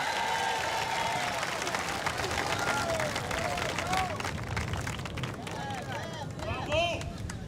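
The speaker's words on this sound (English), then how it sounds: "Let's give him another round of applause." An outdoor crowd at a Christmas beat retreat applauds drummers with dense, sustained clapping and cheering, while voices chatter and a few high whistles rise through the noise.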